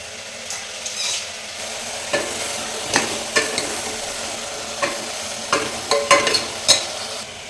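Vegetables for sambar sizzle steadily in a pan while a utensil scrapes and stirs them in scattered knocks, close and alone without talk.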